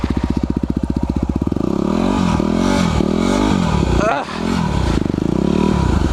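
A Yamaha WR250R dual-sport motorcycle on enduro tires rides over leaves lying on snow, its engine thrumming steadily and rising and falling in revs, with light clattering and scraping throughout.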